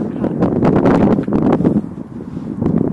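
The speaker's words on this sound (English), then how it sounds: "Kind of a little wind, a little oscillating." Wind buffeting a microphone during a drone flight, a rough, gusty rumble that rises and falls in uneven surges across the whole stretch, close and fairly loud.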